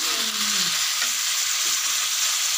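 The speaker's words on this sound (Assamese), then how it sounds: "মাংসখিনি মই এনেকৈ অকল তেলতে গৰম তেলত ভাজি ল'ম, পুৰা ৰঙা কৰি ভাজিম" Mutton pieces frying alone in hot oil for an Assamese-style curry, a loud, continuous close-up sizzle with faint stirring scrapes throughout.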